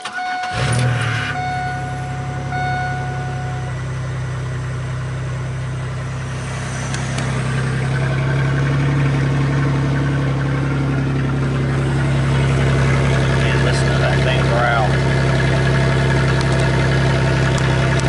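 A minivan-sized car's engine cold-starting on an early morning: a sharp crank and catch, then a loud steady idle that hums on and slightly rises for the rest, no talk over it.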